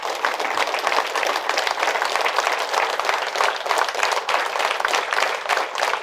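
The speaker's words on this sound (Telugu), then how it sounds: "ఆ విధంగా పాల్గొన్న అందరికీ ఒకసారి గట్టిగా చప్పట్లు కొడదాం." An audience at a spiritual talk on happiness claps loudly and steadily for several seconds, a dense, sustained burst of applause from many hands with no speech over it.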